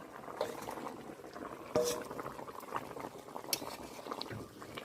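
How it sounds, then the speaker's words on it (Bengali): A thin hilsa fish and potato curry simmers in a pot, giving a steady soft bubbling and gurgling at close range, with an occasional louder pop. "কিছু সময়ের জন্য ফুটবে, তারপরে আসছি।"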